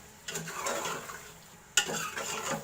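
Close, steady sizzling of meat with garlic, ginger and green chili paste frying in a pan, with stirring scrapes and a sharp clink of a utensil against the pan partway through.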